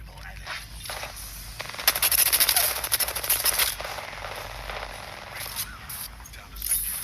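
Rapid automatic gunfire from the shooter game Apex Legends rattles in a sustained burst, with shorter bursts before and after, over game effects and a talking voice.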